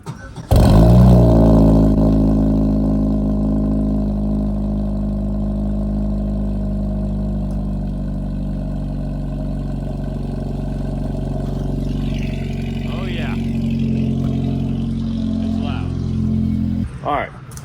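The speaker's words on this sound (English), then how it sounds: "I want to start the trucks up" A truck engine cranks and fires up close by, then settles into a loud, steady idle before cutting off abruptly at the end.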